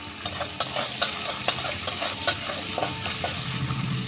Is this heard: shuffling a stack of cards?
no